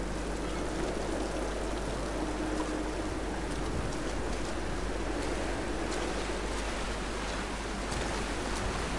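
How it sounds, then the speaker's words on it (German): Steady broadband rush of falling water from a waterfall in a video game, constant and fairly quiet throughout, with no voices. "Den Wasserfall runter."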